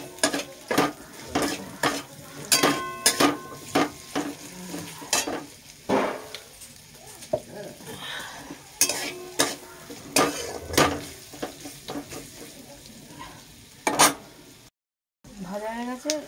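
Onion and green chili frying in a pan with a pinch of salt added, stirred with a utensil: steady close sizzle broken by frequent scraping clatters against the pan, and a short gap near the end.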